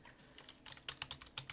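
Tapping on a mobile phone's touchscreen keyboard, a quick run of light, close clicks that begins sparse and grows into a steady burst of keystrokes near the end.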